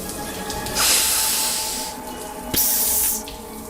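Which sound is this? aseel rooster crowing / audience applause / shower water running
shower water running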